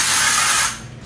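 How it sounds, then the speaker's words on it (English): A short hiss of GIBS HangMan showerless shampoo sprayed onto hair: one loud close burst that cuts off after under a second, with no talk. "Spray my hair."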